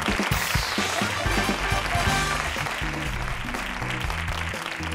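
Studio audience applauding on a Spanish TV game show, a dense, steady wash of clapping with broadband noise and some low musical tones running beneath it throughout.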